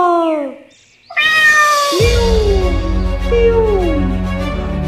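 A cartoon cat meows loudly and close in several drawn-out, wavering cries, following a short separate call and a brief gap, with sustained rough noise underneath.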